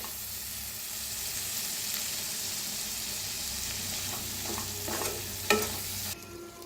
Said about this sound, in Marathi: आता दही टाकले, मिक्स करून घेऊया। छान असं मिक्स करूया।